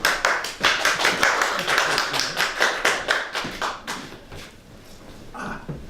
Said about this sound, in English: Another applause for Peter, ladies and gentlemen.